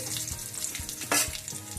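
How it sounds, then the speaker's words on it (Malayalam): Curry leaves hitting hot oil in a pan for a cucumber curry, a steady close sizzle with soft scraping and a brief louder hiss burst midway. "ഇനി നമുക്ക് കറിവേപ്പില ഇടാം."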